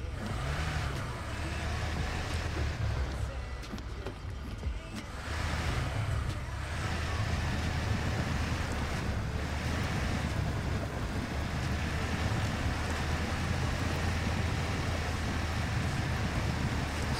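A truck in Expeditions: A MudRunner Game drives through water, with a steady low engine drone under broad splashing and rushing wash that runs unbroken throughout.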